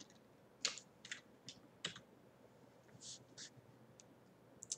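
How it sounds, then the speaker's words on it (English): Quiet keyboard typing while filling in a spreadsheet, with scattered soft key clicks in short irregular bursts and a few louder taps, no talking over it. "So let's write in Koval."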